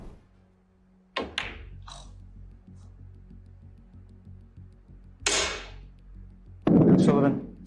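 A snooker cue is struck hard against the table at a match: a sharp crack, a few quick knocks, then another loud crack and a later burst of noise, all fairly close amid otherwise quiet hall ambience.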